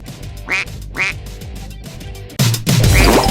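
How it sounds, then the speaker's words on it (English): A duck quacks twice in quick succession, then a louder burst of sound follows, all close and distinct with no voices. "Duck."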